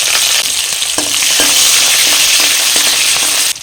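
Bay leaf, dried chilli, five-spice and green chilli frying in hot oil, giving a loud, steady sizzle throughout, with scattered pops and crackles and no talking.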